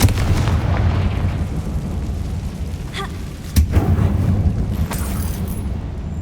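Confringo blasting spell cast in Hogwarts Legacy inside a closed, tomb-like mine, a loud sustained rumbling blast with a sharp burst midway, dense low booming throughout and no talking.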